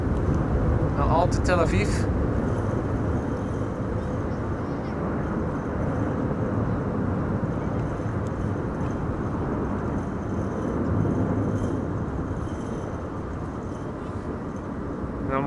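A jet airliner roars off runway 18 left at Amsterdam Schiphol Airport in high winds, a steady loud engine rumble filling the whole stretch while a person talks over it.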